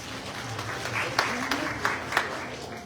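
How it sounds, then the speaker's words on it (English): Moderate applause rises at a summer graduation ceremony for a technical school, scattered clapping with a few sharper hand claps standing out over a low murmur of the room. "we're giving him a round of applause"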